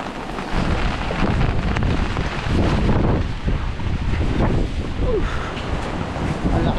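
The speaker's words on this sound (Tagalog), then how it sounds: "Ang lakas ang hangin na." Strong super typhoon wind roars and buffets along the coast, a loud, continuous gusting rush with microphone wind noise and surf-like surges.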